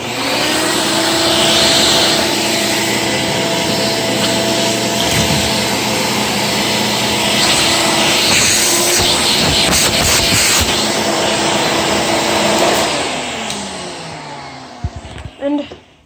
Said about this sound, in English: Okay, I got the hose plugged in. Now, I'm gonna test it quick.